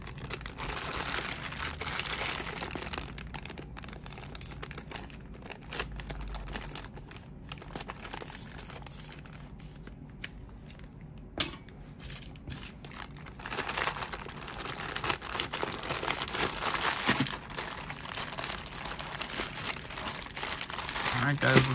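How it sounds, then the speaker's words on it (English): Toy figure packaging is cut open and unwrapped, with steady crinkling and tearing of plastic and cardboard throughout, close and fairly quiet, while someone talks over much of it. "Cut this open, guys."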